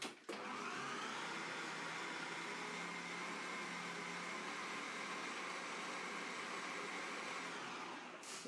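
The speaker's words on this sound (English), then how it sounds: "Just make sure that you're blending it up evenly." A kitchen blender whirs continuously, grinding bread into groundbait for a method feeder fishing rig, a loud, steady motor roar close by that cuts in and stops abruptly.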